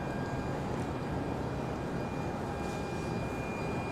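An airliner touching down at Charlotte Douglas International Airport in windy weather, a steady broad engine roar and rumble heard from a distance, constant in loudness with no talking.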